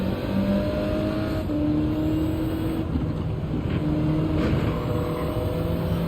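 A race car engine from Gran Turismo 7 drones and revs steadily up close, its pitch shifting through gear changes, with other cars faintly audible, sustained and loud with no voices.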